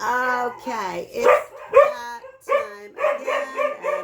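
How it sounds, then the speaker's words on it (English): Several dogs bark and yip in quick bursts close by, one drawing out a howl-like whine, while a person speaks over the noise. "my dogs are barking, so I apologize for the noise"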